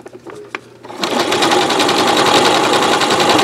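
A sewing machine runs a decorative stitch on a mosaic rope bowl, starting abruptly after a second of quiet handling sounds and then holding a loud, steady, fast mechanical whir to the end.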